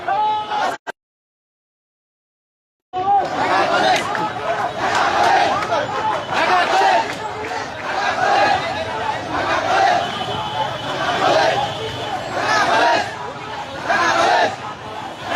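Dhaka College students protest at the Science Lab intersection in Dhaka, a loud, dense crowd of shouting and chanting voices that surges and persists after a brief silent break near the start.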